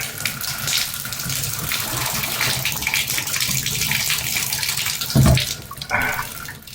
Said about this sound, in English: There was a little bit of water that come from the head shower